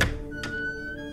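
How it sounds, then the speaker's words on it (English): A single dull knock on a door, a soft thunk followed by a faint tap, with a quiet low hum in the background. "But suddenly, there's a knock on the door."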